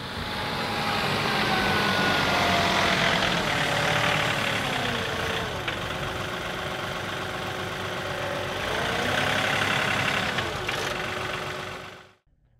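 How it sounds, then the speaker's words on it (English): A farm tractor runs warmed up before loading a gooseneck trailer, its engine holding a steady loud drone with shifting pitch as revs rise and fall, then cutting off abruptly at the end. "All right, I've got the tractor warmed up"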